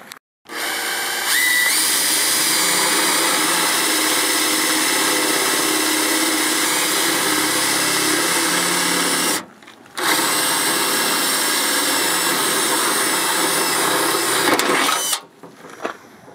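Power drill boring holes during a snorkel install on a first-generation Toyota Tacoma, running as a steady, loud continuous whine for most of the stretch, with one brief pause midway and a stop near the end.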